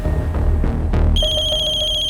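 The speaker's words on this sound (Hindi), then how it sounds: "नल्ले का नाम लिया और उसका फोन भी हाजिर है।" A mobile phone ringtone cuts in loud and close, a bright electronic melody of repeating beeping tones that follows a short stretch of muffled background noise.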